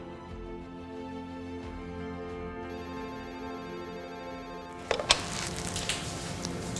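A telephone ringtone plays steadily while a call is placed to a secretary, the repeating tone holding for several seconds before a burst of louder, rustling noise takes over near the end.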